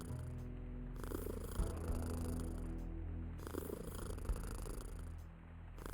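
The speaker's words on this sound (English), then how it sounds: "listen to the cat purring" A cat purrs close and steady in a rhythmic cycle of low rumbling breaths, each inhale and exhale rolling into the next over several seconds, with no voices.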